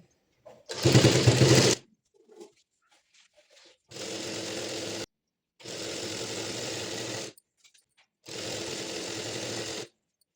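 A sewing machine stitches a one-inch folded hem on patiala pants in four separate bursts: the first short and loudest, the later three longer and steady, with quiet gaps between them.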